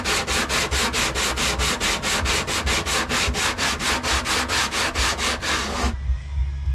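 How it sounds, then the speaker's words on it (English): Heavy grit sandpaper scrubs clear coat on the body of a 1969 GMC truck in fast, even back-and-forth strokes, loud and close, ending abruptly into quiet. "This really heavy grit sandpaper just works good, but it leaves some pretty deep gouges in this."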